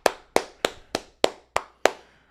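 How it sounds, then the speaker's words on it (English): Seven sharp, evenly spaced hand claps by a single person, close and loud, each ringing briefly before the next, with no talking. "Clap it up to Maryland."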